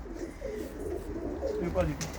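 Pigeons at a loft in Sheffield, England, give a steady, low, soft cooing that carries on without a break, with a voice faintly in the background.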